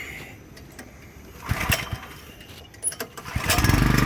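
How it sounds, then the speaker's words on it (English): A Honda GX200 clone small engine is pull-started after its carburetor and jet were cleaned. Quiet handling noises lead into two quick recoil-cord pulls, then a louder rising mechanical rush at the end, close by. "This is the first pull since getting it back together."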